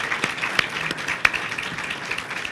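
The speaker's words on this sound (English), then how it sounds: "Give him a round of applause for being the first one to speak tonight." A modest audience at a business talk on aerospace claps for the first speaker of the evening, scattered individual claps over a soft hiss, moderately close and fairly brief.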